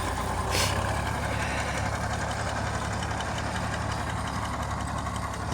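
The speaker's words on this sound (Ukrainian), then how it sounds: "Давно час за цим мотором, за цим гурканням." A YuMZ tractor engine rumbles continuously at close range during field work top-dressing wheat and barley, a steady loud knocking drone with no pauses.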